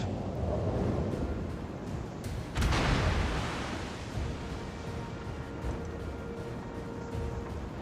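A North Carolina battleship's main guns fire a heavy salvo at a Kutuzov cruiser in World of Warships, a single deep booming blast that rolls out over a constant wind-and-sea rumble.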